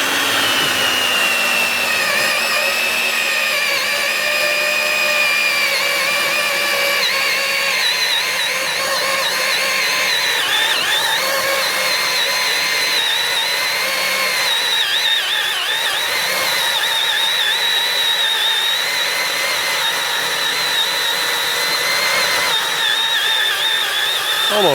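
A power drill bores out a suspension bushing clamped in a vise, whining steadily and loudly at close range with slight pitch wavers and no pause.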